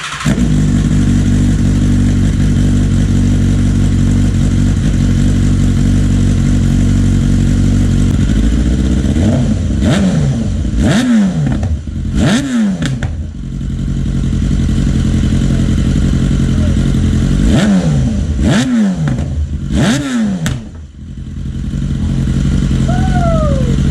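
A BMW S1000RR sport motorcycle with a newly installed link pipe and a small exhaust leak idles loud and close, a rumbling drone broken by several sharp throttle blips that rise and fall in quick pairs before settling back to idle.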